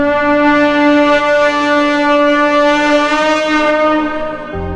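An ancient brass acoustic tuner knocked against a wall in a video game rings out with a long, eerie, steady metallic drone full of evenly stacked overtones, loud and alone, fading slightly before cutting off.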